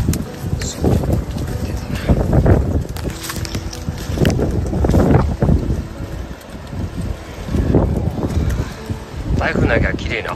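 Strong, gusty wind buffets the microphone at a cow shed as a typhoon approaches, rising and falling in waves while people talk.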